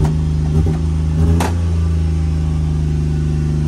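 A small Honda mini truck engine idles high, fast and steady, a constant low droning hum with a brief rev near the start, close by and loud.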